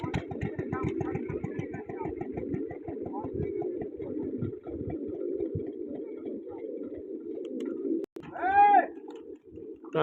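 Domestic pigeons coo steadily and low near a wall where water has been set out for them, a continuous murmuring flock with a brief louder call near the end.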